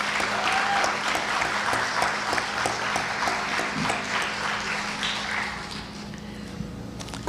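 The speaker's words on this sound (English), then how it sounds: "Please give a huge round of applause for our vocalist," Audience applauds for vocalist Sri Krishna Ji at a Bharatanatyam arangetram, steady dense clapping from a seated crowd that holds for several seconds before easing slightly near the end, with no talking.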